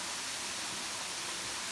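A waterfall on Burias Island, San Pascual, Masbate, Philippines, roars steadily, a dense, even rush of falling water filling the space with no pauses or voices.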